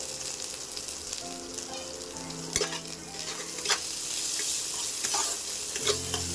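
Onions and asafoetida fry in a pan with a steady sizzle, while a spoon scrapes and stirs in a few distinct strokes and bursts over the crackling oil. No one speaks.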